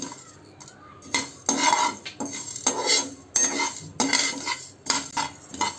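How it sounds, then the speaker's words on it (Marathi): Cumin, ajwain and black pepper spice mix being dry-roasted and stirred in a pan for buttermilk masala, with repeated scraping and clinking of a spoon against metal in short bursts, fairly close, with no talking. "जिरं हे मिश्रण एक ते दोन मिनटं परतवून घ्या"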